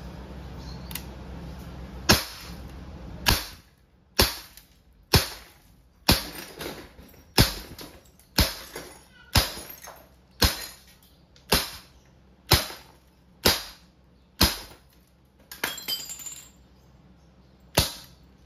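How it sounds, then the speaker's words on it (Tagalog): Umarex Glock 19 Gen 3 CO2-powered non-blowback airgun pistol firing steel BBs: about fifteen sharp, close snapping shots at a steady, unhurried pace, each followed by a brief ring, with quiet gaps between. "Testing Umarex Glock 19 Gen 3 airgun pistol CO2 powered steel ball non-blowback pistol. Okay, firing."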